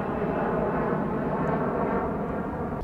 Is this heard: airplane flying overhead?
yes